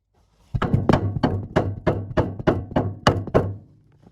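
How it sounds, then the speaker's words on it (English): A rubber mallet strikes a block of wood held against a fuel tank on a Triumph Roadster under restoration, about ten dull, hollow thunks in a steady, fairly quick rhythm, close and clear. "eventually resorted to tapping it with the rubber mallet and a block of wood to try and get it to shift"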